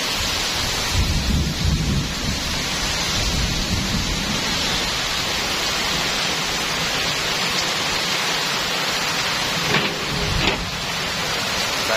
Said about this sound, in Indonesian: Hujan deras lur. Disertai angin kencang.